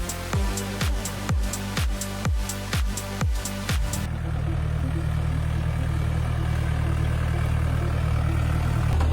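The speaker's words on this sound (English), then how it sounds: "The powerful engine of more than 450 horsepower was running continuously." Heavy tractor-type machine engine of over 450 horsepower, first a series of rhythmic thumping knocks, then a loud, steady low diesel drone running continuously.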